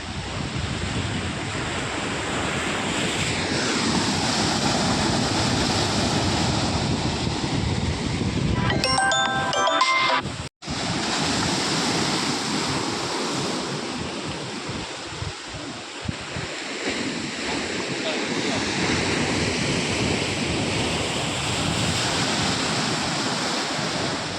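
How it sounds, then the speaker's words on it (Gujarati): Sea waves surge and crash against a rocky shore along the Kerala coast, a steady roaring wash with wind buffeting the microphone, broken by a brief handling knock midway. "ભાઈ આવી ટાઈપના મોજા આવે છે"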